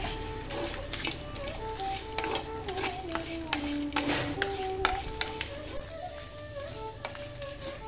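Freshly grated coconut roasts in a pan for saamai bisibelabath, with a soft continuous sizzle under repeated scraping and stirring strokes, while faint background music plays.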